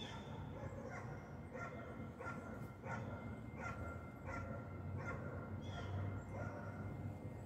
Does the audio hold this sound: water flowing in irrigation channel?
no